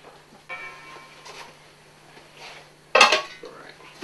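A big metal stock pot is handled with a few scattered clanks and light scrapes, one sharp ringing knock near the end, faint and close in a quiet kitchen.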